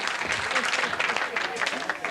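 Applause from a comedy show audience in a 1980s St. John's, Newfoundland sketch, dense and steady, with scattered voices and cheers mixed into the clapping throughout.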